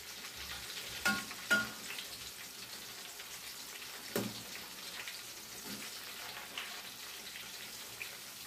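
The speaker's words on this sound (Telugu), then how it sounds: "ఇలా సమానంగా మీడియం ఫ్లేమ్లో పెట్టుకుని వేయించుకోవాలి" Tomato bajji fry in oil on a medium flame, giving a steady, moderate sizzling hiss with occasional soft pops and stirring knocks.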